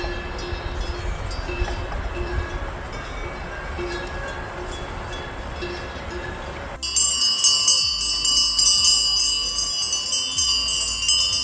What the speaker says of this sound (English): There's also a train that passes through the town